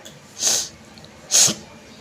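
Two sharp sneezes, close and loud, about a second apart, with quiet between them.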